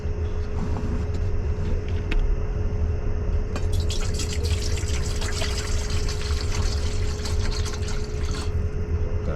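Water poured into a pot for mac and cheese at a solo campsite, a steady splashing trickle running throughout, with a constant low outdoor rumble and hum underneath.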